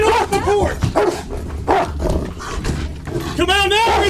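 Police dog barking in loud, repeated bursts amid shouting voices at a house during a tense standoff, the barks cutting through urgent talk close by.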